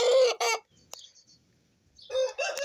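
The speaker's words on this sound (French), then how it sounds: "pour moi c'est bien un coq" A five-month-old cockerel clucking and calling in loud, close bursts at the start and end, with a quiet gap of faint outdoor rustling between.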